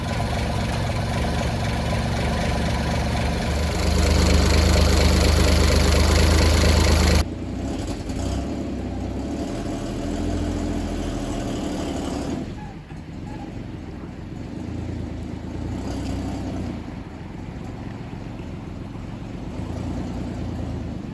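A project car engine running in a garage with no brakes fitted, loud and close with a surge in revs around five seconds, then dropping abruptly to a lower idle that changes tone again partway through.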